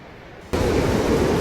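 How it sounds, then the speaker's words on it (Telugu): Water rushes through the gates of Mallavaram dam, surging in as a sudden, loud, steady roar that fills the whole scene with dense broadband noise. "ఒకసారి చూడండి ఆ సౌండ్ వినండి ఎంత భయంకరంగా ఉందో."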